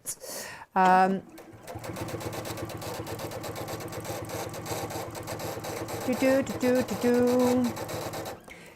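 A sewing machine runs with an improper, non-standard bobbin, whirring in a steady rapid buzz with a chattering rattle, while squeaky, whistling tones sound over the motor.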